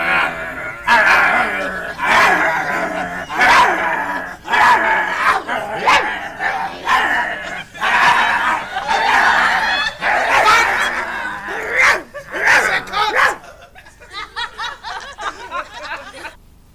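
Two people imitate dogs on a dog food commercial set, growling, snarling and yipping with their voices in a loud, continuous, chaotic back-and-forth, broken by bursts of laughter near the end.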